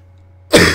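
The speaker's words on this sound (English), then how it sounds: "I'm still coughing and everything." A sudden loud cough bursts out about halfway through after near silence with a low steady hum, a single harsh rasping fit that trails off toward the end.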